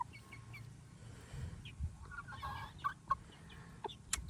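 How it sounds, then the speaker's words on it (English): Three cockerels in a backyard flock clucking and calling close by, several short, sharp calls scattered over a low, steady outdoor rumble, with no talking. "So these 3 are cockerels."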